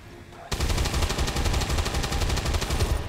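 Rapid automatic gunfire rips out in a video game, bursting in loud and dense after a brief quiet opening and then hammering on without pause.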